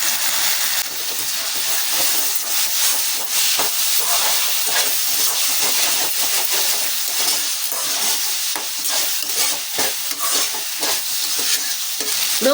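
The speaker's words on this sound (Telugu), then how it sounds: "ఇప్పుడు 1 స్పూను పసుపు వేసుకొని కలుపుకోవాలి" Turmeric being stirred into a tindora and tomato curry, with steady, loud sizzling and hissing from the pan and scraping stir strokes throughout, no voices.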